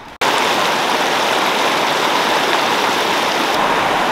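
River current rushing along a trail in Zion canyon: a loud, steady, broadband roar of flowing water that fills the whole stretch without pause.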